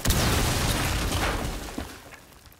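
A thermite breaching charge goes off on a wall in a tactical shooter match, a loud, close, sustained roaring blast that fades over about two seconds.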